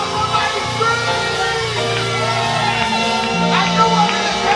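Church congregation during a worship service, shouting and whooping together in a loud, continuous swell of voices with musical backing underneath.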